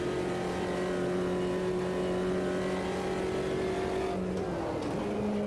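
A low-power sports car engine in the racing game Automobilista 2 holds a steady, droning note throughout, then dips in pitch near the end as the revs drop before settling again. It is loud and continuous, with no talk.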